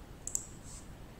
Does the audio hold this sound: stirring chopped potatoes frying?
no